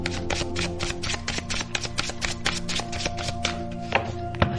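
Tarot cards are shuffled and drawn during a love reading, a rapid series of crisp riffling flicks and soft slaps, close and fairly quiet, with a couple of sharper taps near the end.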